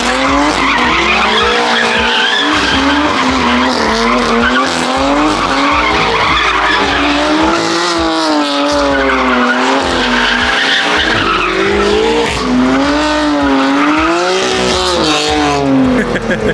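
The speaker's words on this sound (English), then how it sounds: "Austin wants to drift the F80" Tires squeal in long wavering screeches as a BMW F80 M3 drifts, engine roaring loudly and continuously beneath.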